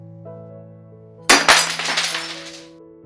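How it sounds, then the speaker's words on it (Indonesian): Breakfast dishes drop and shatter on the floor in a single loud crash, followed by a tinkling spray of breaking glass and ceramic over a steady low hum. "terjatuh hingga pecah berkeping-keping"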